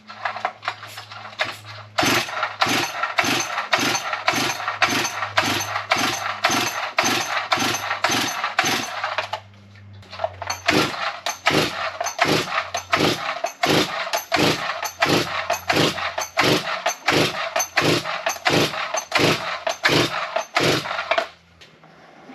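A G366 engine fitted with a big carburetor starts and runs loud and close, a steady rapid chugging of evenly spaced firing pulses that cuts out briefly near the middle, then picks back up and keeps running.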